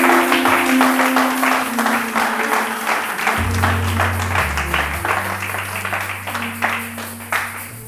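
A church congregation claps in steady, dense applause for several seconds, with a low sustained tone beneath, gradually fading toward the end.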